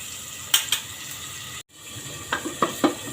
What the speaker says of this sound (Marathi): आता हे भाज्या थोड्याशा परतून घ्यायच्या